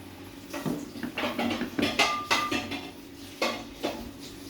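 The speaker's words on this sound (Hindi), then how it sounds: "अब हम इसके अंदर डालेंगे सिरका और इसको अच्छी तरह मिक्स करेंगे" Clanks and scrapes of a utensil against a pot as vinegar is stirred into a mixed vegetable pickle, with irregular knocks in quick succession, fairly close and with no voices.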